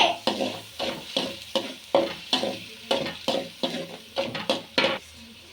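Onion paste being sautéed in a pan for a traditional goat intestine curry, with rhythmic stirring scrapes and clinks about twice a second over a soft steady sizzle, close and fairly loud, no voices.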